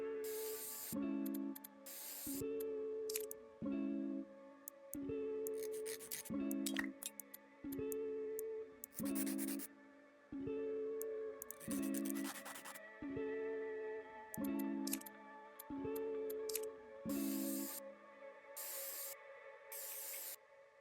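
Repeated spray-paint hisses from a video game demo, a dozen or so short bursts in a steady rhythm over a background music bed with tonal notes, no talking.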